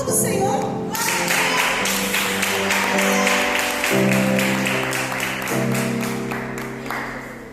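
A church congregation claps along in steady rhythm with strong sustained music and singing, the beat of hands running clearly through the whole stretch.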